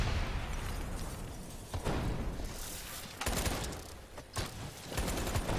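Robots detonating in Call of Duty: Black Ops 3, heard as a dense barrage of loud bursts and explosive pops with several sharp blasts spread across the stretch, over a constant roar of battle noise.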